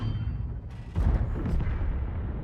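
Tank cannon fire in World of Tanks, a deep booming blast around one second in that rolls off into a rumbling tail over steady low battle noise.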